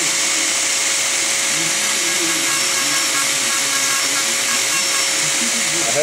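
Dremel rotary tool with a small add-on attachment, shaping a rustic wooden smoking pipe, runs steadily at high speed. It makes a constant, loud whine that never lets up.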